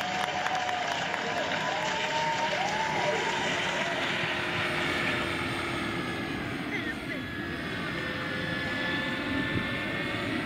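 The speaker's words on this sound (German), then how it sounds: "Komm, kriegst du von mir mal einen Applaus hier." Outdoors at a scale model flying event, a crowd applauds a flight of a large Bell 429 model helicopter, with steady clapping mixed with rotor and engine noise.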